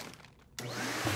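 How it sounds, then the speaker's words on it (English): A vacuum cleaner switches on abruptly and pulls the air out of a bag, giving a steady, loud whooshing roar with a rising whine that holds to the end. "The vacuum is sucking all the air out of the bag"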